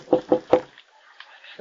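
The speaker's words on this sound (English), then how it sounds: "There's a knock on your door." A knock on a door: three firm, evenly spaced raps near the start, followed by quiet and faint voices.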